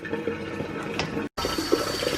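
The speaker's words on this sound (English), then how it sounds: "And we keep running the water until it goes nice and clear." Cold tap water runs steadily into a sink while a gutted fish is rinsed under it, a continuous close rushing splash that breaks off for an instant and then resumes.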